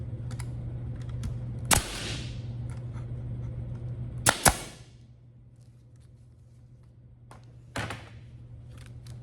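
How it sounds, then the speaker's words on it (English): A staple gun fires into a 2x4 woodworking project shaped like an American flag, giving four sharp, close snaps spaced apart (the middle two nearly together) over a quiet background hum. "Over here, I'll pop in a couple staples. I'll bring it down, pop in 2 more."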